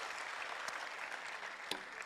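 A church congregation applauds with dense, steady clapping that fills the whole stretch evenly, with a few sharper claps standing out near the end.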